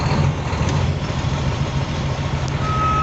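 A truck with an air-assisted clutch idles and is put into reverse. A deep, steady engine drone runs under rhythmic pulsing, with a thin tone near the end.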